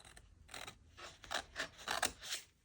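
Scissors snip through an old book cover in a series of about eight short, crisp cuts, each a brief rasping slice, coming close and clear with no talking.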